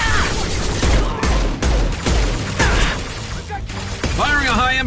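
High-impact gunshots in the video game Mass Effect 2: a rapid series of loud, heavy shots and booms in a busy firefight, with spoken voices over the gunfire.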